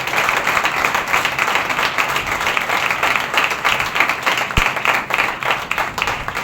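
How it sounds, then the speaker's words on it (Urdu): A church congregation at a Thursday healing meeting bursts into steady, sustained applause, many hands clapping together in a dense, lively wash that carries on throughout. "تو آئیں اس فضل کے لیے زوردار تالیاں بجائیں۔"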